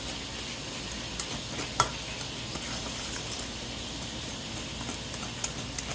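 A spoon scrapes and clinks in a bowl while chocolate is stirred into dry ingredients for chocolate gravy, soft continuous rustling broken by a few sharp taps against the side.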